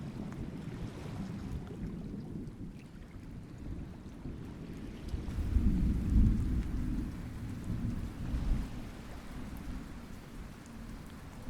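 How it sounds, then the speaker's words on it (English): Steady heavy rain in a thunderstorm, a dense constant hiss with a low rumble of thunder swelling in the middle and fading again, no voices. "Thunder and lightning greeted him as he broke through."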